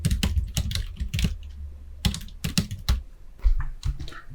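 Typing on a computer keyboard in a word-processor lesson: clusters of quick, close key clicks in irregular bursts with short pauses between them, alone without talk.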